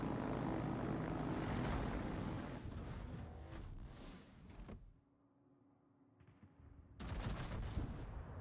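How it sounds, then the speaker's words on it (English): Aircraft engines drone loudly during a bombing run in the naval battle game World of Warships, with gunfire mixed in, before the noise drops to a quiet lull and then swells back up near the end. "Kind of hoping I'll be able to get a full bombing run here."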